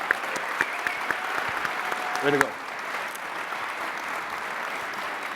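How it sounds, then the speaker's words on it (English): An audience at a precious metals panel session at the XRPLV25 conference applauds with a steady wash of clapping that swells briefly and then tapers, heard under a voice speaking nearby. "give everybody a round of applause"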